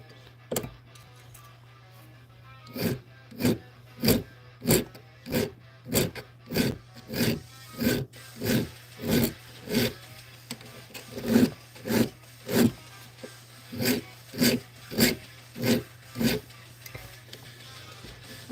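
A hand file strokes across metal in a steady rhythm, pushing the burr one way: about two dozen evenly spaced rasping passes, close and distinct, over a low constant hum with no talk.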